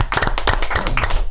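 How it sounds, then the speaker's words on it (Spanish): A crowd of people at a lively comedy show breaks into quick applause, dense clapping continuing steadily throughout at close range, with no clear talking over it. "Bueno, un aplauso, Honguito, señores."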